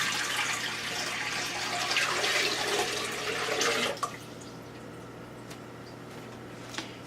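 Tap water pours into a home water distiller, a close, steady splashing rush for about four seconds, then quiet with a few faint drips and clicks.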